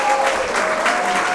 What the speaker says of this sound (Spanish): solamente un aplauso para el Chef Andrés